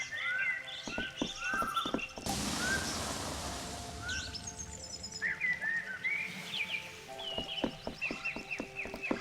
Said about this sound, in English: It's a loud bird.